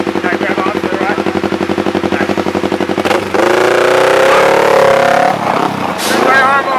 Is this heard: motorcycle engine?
yes